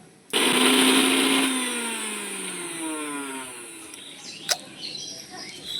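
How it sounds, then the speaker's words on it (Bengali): Mixer grinder blending chilled cooked bamboo shoots into a paste: a loud motor whine starts abruptly, runs steadily, then settles into a lower, labouring drone with a brief clatter near the end, no talking. "একটা মিক্সি বাটি নিয়েছি আর যে আমি বাসকরগুলো ঠান্ডা করে নিয়েছি এগুলো একটু পেস্ট করে নেব"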